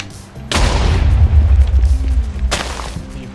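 Two sharp booming explosions in the video game Minecraft, one at the start and another near the end, each followed by a rumbling low tail, loud and close.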